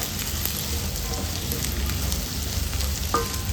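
Cluster beans fry in ghee in a pan, giving a steady, dense sizzle with faint crackles throughout and no talking.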